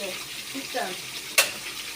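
Food cooks in a pot on a stove while being stirred, with a soft sizzling hiss, a faint low voice early on and one sharp utensil clack against the pot midway.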